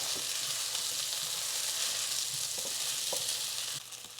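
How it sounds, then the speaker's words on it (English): Gnocchi fry in a pan with a steady, close sizzle, and a few soft knocks and scrapes mark the pan being tossed, with no one speaking. "I have not touched this gnocchi. I've just been letting it toast up. So let's give it a toss and see how we're looking."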